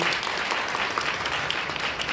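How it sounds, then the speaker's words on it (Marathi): Dense, steady applause from an audience at a Women's Day event, many hands clapping together at close range and holding an even level for the whole stretch. "त्याच्यासाठी एक जोरदार टाळ्या आपण लावल्या"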